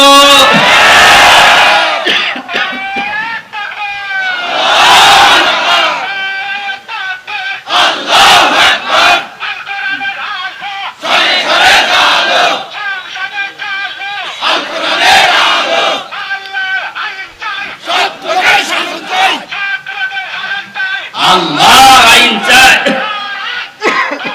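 A large crowd at an Islamic religious gathering roars a takbir chant in repeated loud bursts, with a lead voice calling between the responses, all close and powerful.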